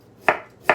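A knife slices through peeled ginger in a home kitchen, giving two crisp, close chopping strokes about half a second apart, with quiet in between.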